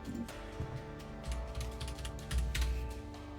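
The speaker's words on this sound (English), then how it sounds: "I'm speaking keyboard noises?" Computer keyboard typing during a game stream, a steady run of fast clicky keystrokes with a few louder bursts, fairly close and with no talking over it.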